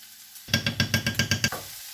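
A spoon scrapes rhythmically through bolognese sauce with tomato puree in a hot pan, about eight quick, close strokes over a steady sizzle that fades as the stirring stops.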